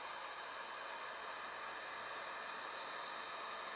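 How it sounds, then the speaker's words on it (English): A heat gun blows hot air over heat shrink tubing on electrical connections during an LED lighting retrofit, a steady broadband hiss held at an even level throughout with no talking. "we're going to heat up the connections here to shrink the tubing down"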